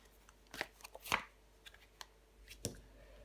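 A tarot card is drawn and laid down over another card on a table, giving a few soft papery slaps and brushes, with one sharper snap near the middle, close and quiet with no talking.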